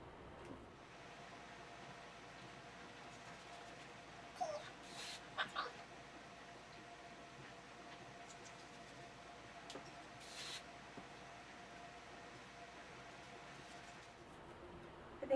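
Short hissing bursts from an aerosol hairspray can, a few quick puffs spread apart with quiet stretches between them.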